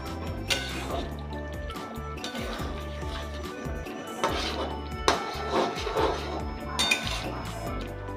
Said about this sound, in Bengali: দিয়ে দেবো গরম মশলার গুঁড়ো, দিয়ে এটাকে ভালো করে নেড়েচেড়ে মিশিয়ে নেব